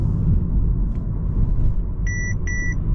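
A 2024 Mercedes A200 saloon sounds its collision warning: two short, clear electronic beeps in quick succession over the constant low road rumble inside the moving car.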